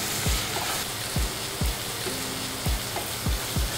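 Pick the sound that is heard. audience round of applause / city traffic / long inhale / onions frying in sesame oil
onions frying in sesame oil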